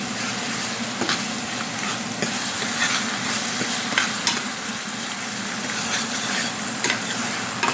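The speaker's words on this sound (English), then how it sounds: "You have to cook the chili in the oil for at least 2 minutes to bring out the raw smell." About three tablespoons of ground dried chili cooking in hot oil in a home kitchen, a continuous close sizzle with bursts of spatter and occasional clicks of stirring, no voices.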